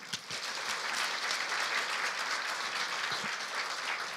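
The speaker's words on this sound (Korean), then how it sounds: "박수 한번 칠까요?" A church congregation claps steadily for a few seconds during a Sunday service, a dense, even patter of many hands with no voices over it.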